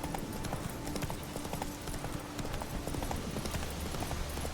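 Hooves of a horse clip-clop steadily on a road in The Witcher 3: Wild Hunt, set in Skellige, a continuous brisk rhythm of close, even hoofbeats with game ambience beneath and no talking.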